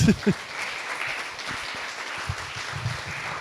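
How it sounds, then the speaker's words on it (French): An audience applauds at an afternoon plenary session on internet governance. The clapping is a soft, steady wash that sounds fairly distant, with a few low voices underneath. "Vous pouvez l'applaudir"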